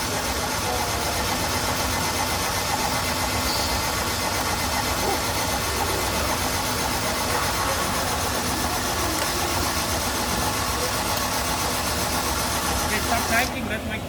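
A flooded car engine cranks steadily and loudly without catching, a continuous churning drone running the whole length and close to the listener, with voices speaking over it.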